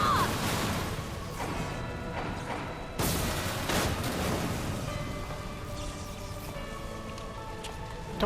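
Explosions striking troopers in the Final Fantasy XIV video game: a dense, rumbling barrage with two sharp blasts punching through, continuous crashing debris and battle noise throughout, no voices.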